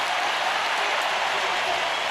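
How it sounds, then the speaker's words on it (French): Stadium crowd in the stands applauding after a men's 400m hurdles race at a Diamond League meet in Zurich, a broad, even roar of distant clapping and crowd noise with no pause. "toute la tribune se lève là devant nous pour faire une salve d'applaudissements"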